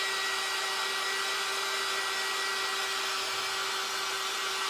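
A hair dryer blows steadily on a wet faux cherry, a constant loud whirring hum with a fixed whine running unbroken from start to end, with no voices.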